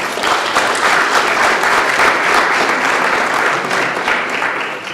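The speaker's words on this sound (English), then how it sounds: "Please give them a round of applause." An audience at a male symposium gives a round of applause for returning students of the classes of 2012 and 2013, dense, loud clapping sustained throughout without pause.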